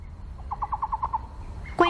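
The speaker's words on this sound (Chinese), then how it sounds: "成群的红嘴黑背正以不太高明的歌声来宣示自己的领域" Red-billed black bulbuls in forest beside a stream, a short run of repeated clear calls in quick even rhythm, fairly near, followed by a sharper squawking call at the end over a low background.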